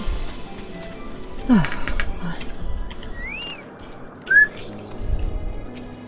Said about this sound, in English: Why do chocobos whistle?